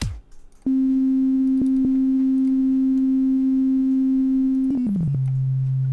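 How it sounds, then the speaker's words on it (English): A single sustained sine-wave tone plays in the Rytmik Ultimate music app, a loud steady pitch held for several seconds before stepping down in a short descending glide, with no talking. "try to add some arpeggio. Let's use simple sine wave."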